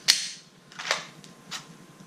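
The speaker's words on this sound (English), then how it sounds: "And if you do want to dry fire, you can." Dry firing an empty handgun with nothing in the chamber: a sharp mechanical click up close, followed by a few softer clicks and rattles at roughly half-second intervals, with no talking.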